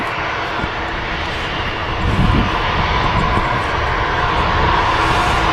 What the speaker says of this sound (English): EasyJet A320 Neo on the taxi out. Should see that soon over here on runway 2.